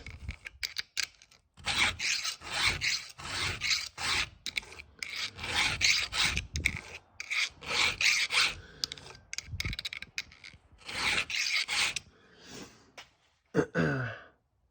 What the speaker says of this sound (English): I just use my Dremel with a sanding drum on it to take down my rakers